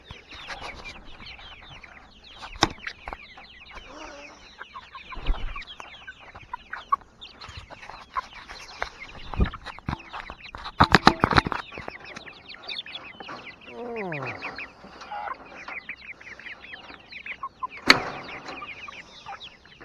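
Chickens cluck and squawk in irregular bursts, a busy flock at moderate distance with scattered sharper calls over a steady outdoor background, no talk.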